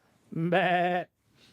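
A man imitates a sheep's bleat with one sustained, wavering nasal baa about half a second long, loud and close, followed by quiet.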